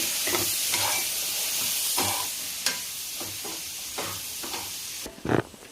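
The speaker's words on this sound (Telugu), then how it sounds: "శనగింజి పౌడర్ అయితే వేసుకుని బాగా కలబెట్టుకుందాము" Gram flour powder being stirred into a hot cooking pan: steady scraping strokes recur every second or so over a soft background sizzle, with a sharper clatter near the end, no talking.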